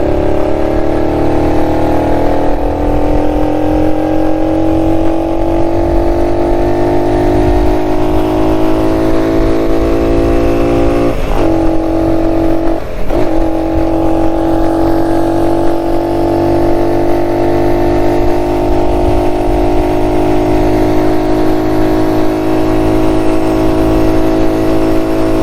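A 1969 Honda Trail CT90 motorcycle accelerates in third gear along a straightaway. Its engine drones loud and close, climbing gradually in pitch, with two brief dips midway.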